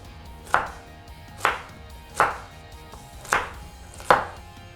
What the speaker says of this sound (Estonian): Ma lõikan ta lihtsalt natuke väiksemateks tükikesteks.